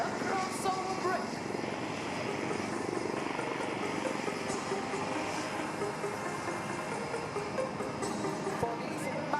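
Aerobatic team jets at the Aero India 2021 air show fly a crossover break, producing a loud, continuous roar of jet engines that fills the whole stretch, with a commentator's voice partly audible beneath it.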